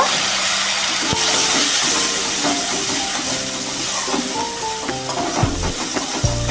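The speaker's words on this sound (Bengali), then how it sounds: "একটু জল দিয়ে ভালো করে কষিয়ে নেবো মশলাটা যতক্ষণ না কাঁচা গন্ধটা চলে যাচ্ছে" Spice paste of ginger, green chili and Kashmiri red chili powder fries in a pan with a steady loud sizzle and hiss, with occasional stirring scrapes and clinks throughout.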